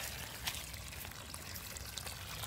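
Water from a garden hose pours steadily onto the ground beside a house, a faint continuous splashing trickle heard alone.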